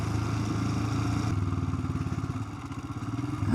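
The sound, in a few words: motorcycle ridden on a commute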